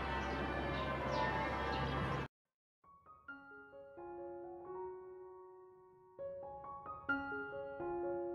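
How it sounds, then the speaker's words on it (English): Church bells of St. Paul's Cathedral in Wellington, New Zealand ring out in a melodic sequence of clear tones, moderately loud and unaccompanied by talk, following a brief burst of loud broadband noise at the start. "From here you can hear the bells of St. Paul's Cathedral"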